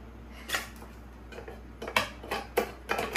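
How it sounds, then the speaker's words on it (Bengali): Ginger, garlic and onion are chopped together with a knife on a board in a home kitchen, a series of irregular sharp close taps with pauses between them and no talking. "আমি সব একসঙ্গে চপ করে নিচ্ছি। আদা, রসুন আর পেঁয়াজ আলাদা আলাদা করে কে করবে?"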